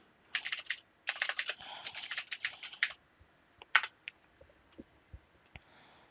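Password being typed on a computer keyboard at a Linux command line: several quick bursts of close, crisp key clicks, then a few scattered single taps trailing off, with no talking.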